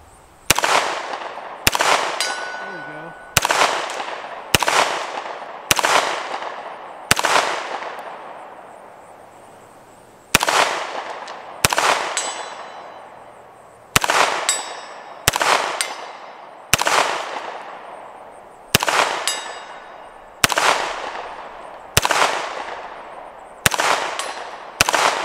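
A CZ Scorpion 9mm fires about sixteen sharp shots at steady intervals, each loud crack followed by a ringing echo, at an outdoor range with steel targets at 100 yards.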